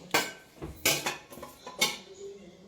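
Food is served at home with dishes and cutlery clinking: a few sharp clattering knocks of plates and utensils, close and distinct, spaced irregularly over a few seconds.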